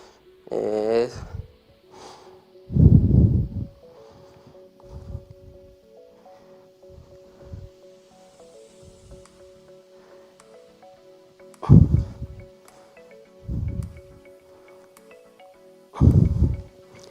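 Slow, deep breaths puff loudly into the microphone every few seconds, with quiet steady music playing underneath.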